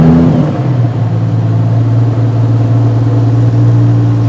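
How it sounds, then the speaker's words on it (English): A Brabus Bodo V12 car engine cranks and fires, then settles into a loud, deep, steady rumbling idle close by. "So let's start the engine."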